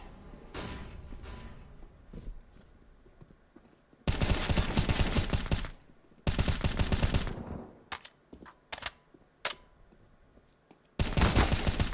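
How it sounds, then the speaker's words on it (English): Counter-Strike: Global Offensive match on the Overpass map with a Molotov and flashbang thrown amid gunfire: dense, loud bursts of automatic fire in several stretches, separated by quieter gaps holding single sharp shots and thuds. "Throwing a Molotov. Throwing flashbang."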